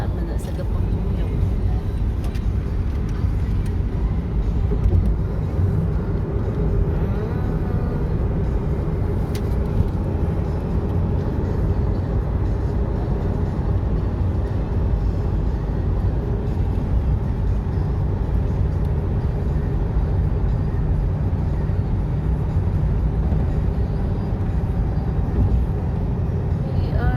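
A car driving on the road makes a steady engine and tyre rumble from inside the cabin, constant and fairly loud for the whole stretch, with a voice talking over it at times.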